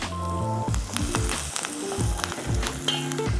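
Carrots and about a dozen curry leaves hitting a pan for millet khichdi produce a lively sizzle with stirring scrapes, close and steady throughout, with soft music playing underneath.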